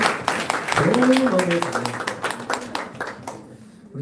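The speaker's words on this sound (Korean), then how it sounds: "우리 박수!" Children clapping for a classmate during a church Sunday school service, a loose patter of claps heard under a voice, thinning out toward the end.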